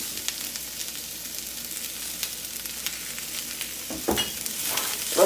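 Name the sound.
ramen noodles being tossed and toasted in oil in a pan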